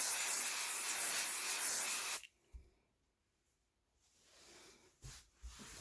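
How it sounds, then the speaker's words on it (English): A loud, steady hiss of aerosol basting adhesive sprayed onto a quilt for about two seconds, then it cuts off, followed by quiet handling noises and a faint bump. "And I'll spray here."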